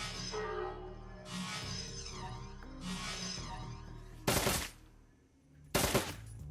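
Turret machine-gun fire in the cyberpunk tactics game Shadowrun Dragonfall: sustained bursts of automatic fire over a steady background, followed by two loud, sharp broadband blasts.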